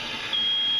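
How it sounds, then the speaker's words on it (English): Smoke detector in a home where a hot water heater is being installed, giving a steady high-pitched electronic beep that starts partway through and holds loud and constant over a faint background hiss. "their smoke detector is working."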